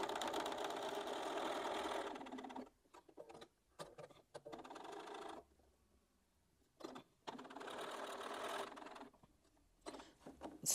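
A sewing machine stitches a narrow seam on a memory heart, running in whirring bursts of rapid needle clatter separated by short pauses and quiet gaps where it stops and restarts.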